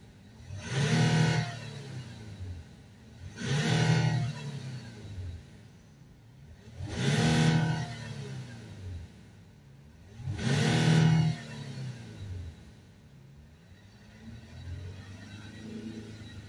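A Range Rover Sport 3.0 engine, after a fluid flush for MAP sensor and throttle faults, is revved four times in evenly spaced loud surges over a low idle, close by with no talk.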